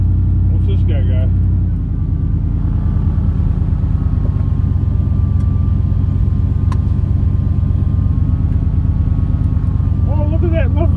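Steady low car engine rumble and road noise from inside a moving vehicle cruising around, continuous and close, with voices talking over it.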